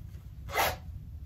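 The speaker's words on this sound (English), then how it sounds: "Hold up, the zipper is open." A single quick zipper pull, a brief raspy burst close by over a quiet low background hum.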